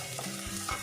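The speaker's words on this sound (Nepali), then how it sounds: "अब यसलाई हामीले एकछिन भुन्नु पर्छ।" Onion, garlic and ginger fry in a pan with a steady close sizzle and a stirring scrape, over less than a second.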